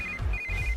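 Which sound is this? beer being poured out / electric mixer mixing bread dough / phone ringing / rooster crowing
phone ringing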